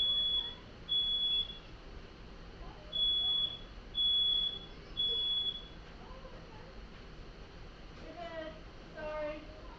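A smoke alarm sounds a series of shrill, evenly spaced beeps in bursts, fairly loud over a busy room, and then goes quiet while people talk nearby.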